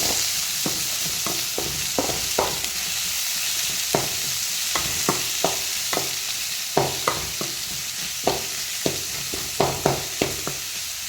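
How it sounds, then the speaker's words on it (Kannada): Pickle and onions fry in a pan with a constant sizzling hiss, punctuated by regular, crisp spatula strokes scraping and tapping the metal, close up with no talking. "ಉಪ್ಪಿನಕಾಯಿ ಇದನ್ನೆಲ್ಲ ಹಾಕ್ಕೊಂಡು ಫ್ರೈ ಮಾಡ್ಕೊಳ್ಳಿ"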